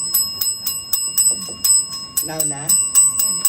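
A small fidget bell rings in a steady, even rhythm of bright, close, metallic dings, and a voice briefly speaks between strikes.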